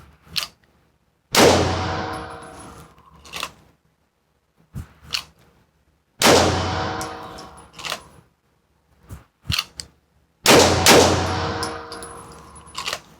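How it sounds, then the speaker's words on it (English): A handgun fires several rounds at an outdoor range: sharp loud cracks with ringing tails, spaced a few seconds apart, with smaller clicks and handling noises between shots. "I'll fire off a couple rounds."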